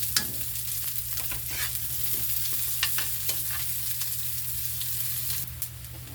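Ground meat sizzles and fries in a pan while being stirred, a steady close crackle with scraping strokes of the utensil and no talk.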